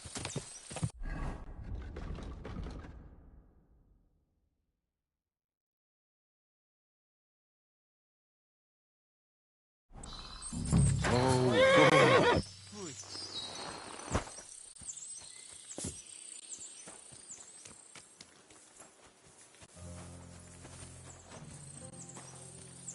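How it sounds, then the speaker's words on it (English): Horse hooves clop and a horse whinnies amid game-like sound effects in Kingdom Come: Deliverance II, near village stables, with a few seconds of silence in the middle before busier noise resumes. "Horses here, more in the stables, and a big corral with even more outside the village."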